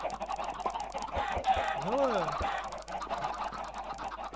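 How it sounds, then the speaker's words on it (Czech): Minecraft chickens cluck in the video game with short, nasal, rising-and-falling calls in the middle of the stretch, over a soft game background, while someone briefly speaks. "Ještě nakrmil zbylý slepice."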